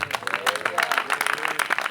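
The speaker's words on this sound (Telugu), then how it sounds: "చప్పట్లు గట్టిగా" A church congregation at a worship service applauding, a short burst of dense, fairly close clapping from many hands with rapid irregular claps.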